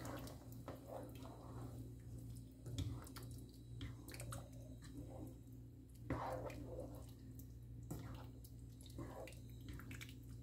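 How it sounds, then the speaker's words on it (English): A spoon stirs a pot of dumpling stew with broth, making soft, faint squishing and sloshing sounds with small drips scattered through a quiet room. "I'm just going to stir that up."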